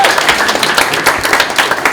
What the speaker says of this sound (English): So let's please give them another round of applause.